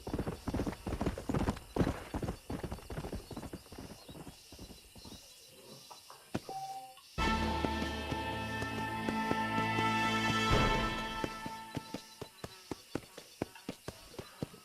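Horse hooves clip-clop in Red Dead Redemption, a stallion walking in a steady rhythm of distinct close hoof strikes, which pause briefly, then resume over a denser layer of game ambience and music.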